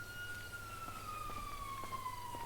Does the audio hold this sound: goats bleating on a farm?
no